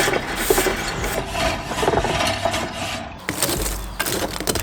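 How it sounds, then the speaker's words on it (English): A brush scrapes old meat residue off a metal braai grid with rough, repeated strokes that are close and fairly loud. There is a short pause partway through. "I'll use this brush to like scrape off all the old dirty stuff"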